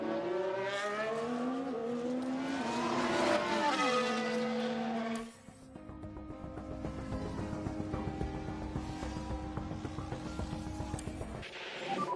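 An F1 car laps on old tyres in the F1 Manager 23 video game, with a loud high engine whine that rises through the gears, then drops to a steadier droning run.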